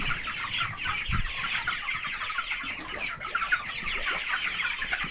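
Broiler chickens in a coop cluck and chatter continuously at close range, many birds overlapping in a busy, steady din with no talking.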